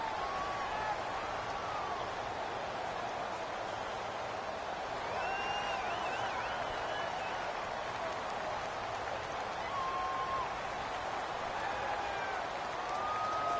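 Stadium crowd noise in an American football video game, a steady dense roar like rushing rain that holds level throughout, with faint whistle-like tones and murmured speech drifting through the wash.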